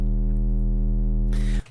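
A deep, steady sine-wave bass from the Vital synth, its level modulated for subtle natural movement, holds alone for about a second and a half before a brief noisy burst and a quick cutoff.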